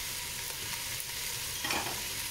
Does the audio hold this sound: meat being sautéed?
yes